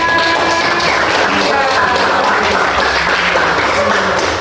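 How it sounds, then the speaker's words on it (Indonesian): A classroom of students gives a quick round of applause for a classmate, loud close clapping from a small group mixed with voices talking over it. "Tepuk tangan buat rekan kita, Mbak."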